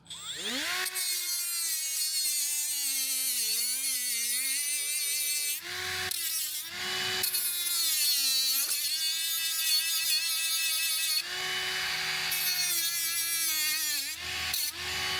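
A Hercules right angle die grinder fitted with a twist-lock Hercules sanding disc whines steadily at close range, with pitch dips as the disc bears on the workpiece and brief breaks where it spins back up.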